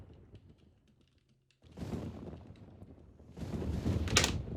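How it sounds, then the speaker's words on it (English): Typing on a computer keyboard at a desk, bursts of close rapid key clicks that start after a quiet moment and grow louder and busier toward the end. "I'm typing that in right now into my Word doc that I have to keep notes on this"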